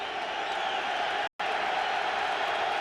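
Football stadium crowd at a Vikings at Lions NFL game in 2003, a loud steady roar of noise filling the scene, briefly cut out for a moment midway.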